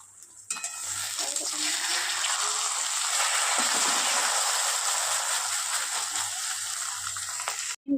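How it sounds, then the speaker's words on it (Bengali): Egg omelette frying in a little oil in a pan, a loud, dense hiss that bursts in abruptly and holds steady for several seconds before cutting off sharply, close to the mic, with no talking over it. "তো ডিমটা ভাজা করে নিই চলুন ভাজা করে নিয়ে আর আসছি"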